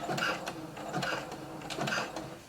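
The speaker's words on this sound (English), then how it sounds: "Now we're not going to begin pulling yet. Let's just do a few stitches and back stitch." A home sewing machine runs a few short stitches and reverses to back stitch on knit fabric with elastic, a steady mechanical whirring in brief bursts, near and fairly quiet.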